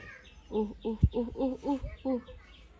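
A hen settling to lay an egg clucks in a short series of close, rhythmic calls, with a couple of dull thumps in the background.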